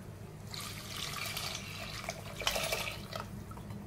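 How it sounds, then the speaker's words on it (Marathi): Mutton broth being poured into fried masala paste for Kolhapuri mutton rassa, a steady close liquid pour and splash that swells and trickles for a few seconds, alone without talk. "त्याच्यामध्ये हा मटणाचा रस्सा घालूया।"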